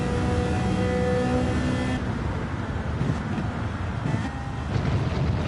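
Ferrari F40 hypercar engine in a racing video game, a loud sustained drone that shifts pitch as it accelerates, with tire and road noise and no talk.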